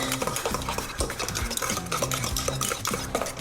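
A fork whisks an egg mixture in a bowl, producing quick, repeated scraping and clinking strokes at a brisk, irregular rhythm, close and clear, with no talking.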